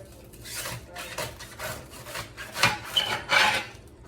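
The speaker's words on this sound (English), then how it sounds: "See, cut that, flip it. Cut it again, and just start slicing." A knife slicing through vegetables on a cutting board for a taco salad, a series of close, rasping cuts that come in uneven strokes and grow louder toward the end, with no voice over them.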